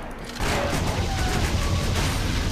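Explosions in the video game Torchlight II burst out suddenly after a quiet start, then a dense, crackling roar of blasts continues at moderate volume.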